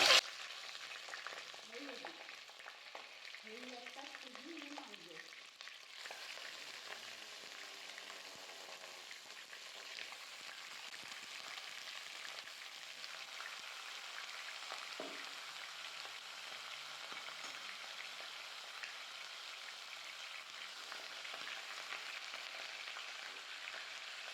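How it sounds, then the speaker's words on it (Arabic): Chicken pieces frying in hot oil in a pot: a steady, even sizzle and crackle that holds for the whole stretch, with a voice talking briefly near the start. "كده الزيت بدأ يسخن، هنزل بالفراخ"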